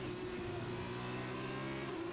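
A race car engine in the F1 2021 game holds a steady, droning mid-pitched tone with a stable harmonic whine. The stalled car sits without pulling away, with no talk over the engine.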